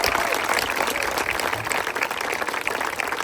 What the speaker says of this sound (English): So let's give them a round of applause for all their hard work.